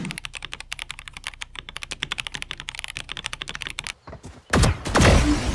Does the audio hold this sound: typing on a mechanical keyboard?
yes